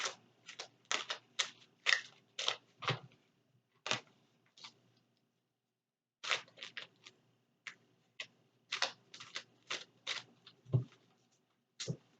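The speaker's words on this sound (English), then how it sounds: "Spirit told me to shuffle the deck again." A deck of cards is shuffled in bursts of quick, crisp riffling flicks, with a short pause midway, close and fairly quiet.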